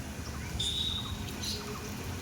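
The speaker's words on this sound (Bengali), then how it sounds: "পাখিরা কত আনন্দ করছে বৃষ্টি পেয়ে গাছে গাছে" A few faint bird chirps and a thin whistle come from trees during rain, heard over a constant low background of rainfall.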